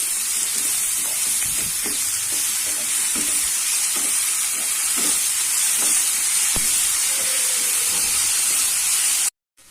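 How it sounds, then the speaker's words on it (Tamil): Tomatoes with a pinch of salt sautéing in a pan for Chettinad-style kara chutney, a steady close hiss and sizzle with occasional stirring clinks and scrapes, no voices, ending abruptly. "தக்காளி வதங்க கொஞ்சமாக உப்பு போட்டுடலாம். தக்காளி நல்லா வதங்கட்டும்."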